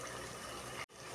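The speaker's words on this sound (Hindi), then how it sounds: "अभी थोड़ा सा इसमें हम लोग पानी ऐड करेंगे" Water is poured into a pot of mutton coated with ginger garlic paste, a steady close gush running almost without pause and broken by one brief gap near the end.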